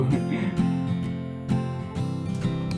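The Real Guitar 5.0 virtual instrument in FL Studio strums chords in a regular rhythm, each strum ringing briefly with bright attacks over a low sustained tone.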